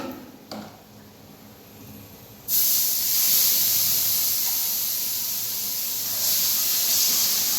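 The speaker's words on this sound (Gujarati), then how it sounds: "દાળ પર પેલા વઘાર નાખીએ આપણે આ રીતે" Hot tempering is poured onto cooked dal, and after a quiet start a sudden loud hiss bursts out and keeps going as a strong, steady sizzle.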